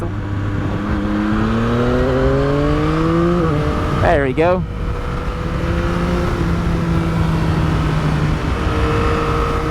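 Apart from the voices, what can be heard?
Yamaha XSR900 motorcycle engine accelerating past a truck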